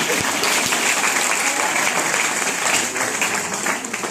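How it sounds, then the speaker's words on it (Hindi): Loud, continuous clapping fills the hall as a network marketing seminar crowd keeps applauding, steady and undiminished until it eases slightly at the very end. "अरे तालियां बजाओ यार"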